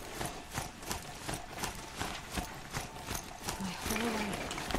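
Mechanical Strider mount from Horizon Zero Dawn galloping, a steady rhythmic run of clip-clopping hoofbeats close by, with a faint voice briefly heard toward the end.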